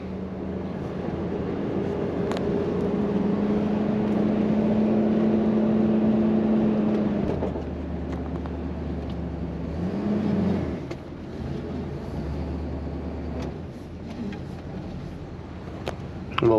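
A 1968 Plymouth Fury with a 383 V8 idling just after starting, a steady low engine rumble heard from inside the car with faint cabin noises and some rattling around it.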